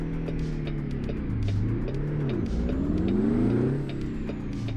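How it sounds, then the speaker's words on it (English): A 1970s International Fleetstar 2070A logging truck engine revs up and down, its deep rumbling note swelling and falling in steady sweeps, loud and close, with no talk. "The sound of this truck is growing on me."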